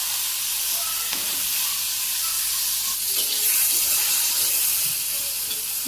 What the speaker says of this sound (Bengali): বেগুন ভাজি করুন, সেই জন্যে এই তেলও গরম হয়ে গেছে, অল্প অল্প করে দিয়ে দিই